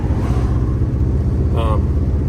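A 1967 Lincoln Continental fitted with Holley Sniper EFI drives along, giving a steady loud low engine rumble with road and wind roar, and a brief voice cuts in near the end.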